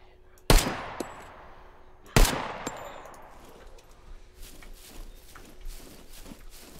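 Two sharp, loud gunshots about 1.7 seconds apart in the survival video game SCUM, each ringing out with a long decaying echo, followed by soft footsteps and movement sounds.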